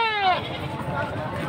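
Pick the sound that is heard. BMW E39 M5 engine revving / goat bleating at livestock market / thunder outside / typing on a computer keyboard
goat bleating at livestock market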